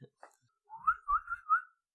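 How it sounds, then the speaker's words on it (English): A short rising whistle, then a few wavering whistled notes, close and fairly quiet, after a couple of faint clicks. "I'm whistling at them."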